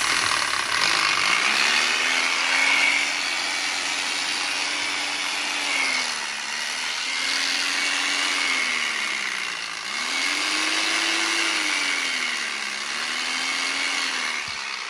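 A secondhand Japanese electric jigsaw with two speed settings runs steadily and close by. Its motor whine dips and rises in pitch a few times over a buzzing mechanical rattle.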